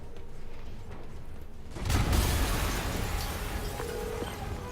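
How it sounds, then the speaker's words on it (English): An explosion in Spider-Man on PS4, a sudden loud boom about two seconds in that swells out of quieter game ambience and then rumbles on, fading slowly. "Yuri, an explosion just..."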